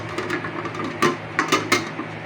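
A lid set onto a pot of Filipino fish and tomato stew, kinamatisang isda, giving several light metallic clinks and taps close by in quick succession, over a low steady background hum.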